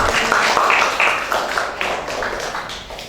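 Students in a classroom clap for two classmates, a brief burst of close, loud, somewhat uneven clapping that gradually thins out over a few seconds.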